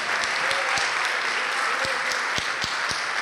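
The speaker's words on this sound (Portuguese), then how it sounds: "Vamos aplaudir mais ao nome de Jesus." Congregation applauding during a church service, a steady wash of clapping with a few sharper individual claps standing out, moderately loud and continuous throughout.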